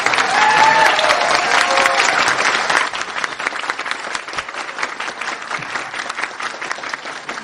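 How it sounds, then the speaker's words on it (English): Kids in a room break into sustained applause, a dense crowd of clapping that stays steady and fairly loud, dipping slightly partway through while a few voices murmur underneath. "Why are the kids clapping?"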